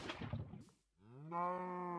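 A Minecraft cow lets out a single drawn-out moo, clear and up close, following a short rustling scuffle.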